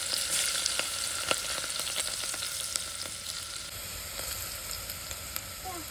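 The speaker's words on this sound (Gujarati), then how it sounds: "હવે નાખવાનું છે લસણ ને મરચાં." Garlic and chillies sizzle in hot oil with cumin for a kantola (spiny gourd) curry, a steady, close crackling hiss with small pops and no talking.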